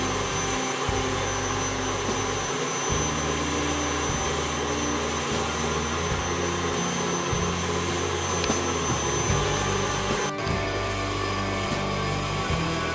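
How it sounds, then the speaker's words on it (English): An electric stand mixer beats butter and sugar into creamed batter for a blueberry cake, giving a steady, loud motor whir with a rattling low hum that continues throughout and cuts briefly near the end. "I'm gonna turn off my mixer"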